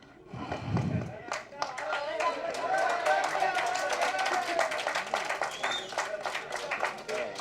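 Dense applause from the audience at a Tamil movie audio and trailer launch, steady crisp clapping that swells after a brief lull and carries on for several seconds, with a voice speaking over it.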